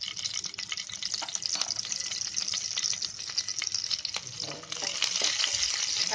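Green chili pieces frying in ghee in a kadhai give a steady, bright sizzle that runs throughout, with faint stirring scrapes and no voices.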